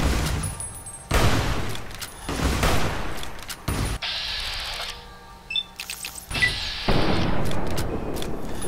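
Gunfire in Fallout: New Vegas during a fight with robo-scorpions in the Old World Blues expansion: loud bursts of shots with booming impacts, separated by a short gap of quieter game noise.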